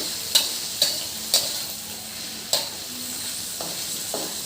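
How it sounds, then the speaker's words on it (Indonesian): Chicken cooking with spices for zuppa soup is stirred in a pan over a constant sizzle, with about half a dozen sharp spoon knocks against the pan spaced unevenly. "Nah, ini aku aduk-aduk hingga menyatu dengan bumbunya tadi."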